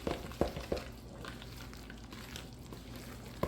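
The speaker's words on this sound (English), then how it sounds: "Just a good nice stir." Zucchini bread batter gets a good stir in a bowl, a faint soft wet swishing with a few light scrapes and taps of the utensil near the start and end.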